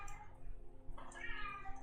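A house cat meowing nearby, a couple of short plaintive meows over a low background hum and faint room noise.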